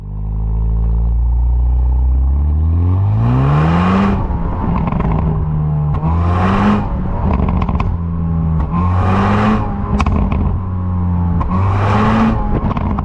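A 2022 Hyundai Veloster N hot hatch with a DCT gearbox accelerating hard, engine revs climbing through repeated upshifts with exhaust pops and crackles at each shift, loud and close, no voices.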